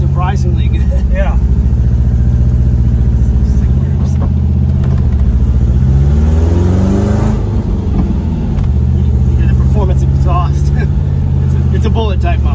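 A 1974 Porsche 914 with the 1.8 engine and a bullet-type muffler revs hard and loud, the engine note rising and falling close by while people talk over it throughout.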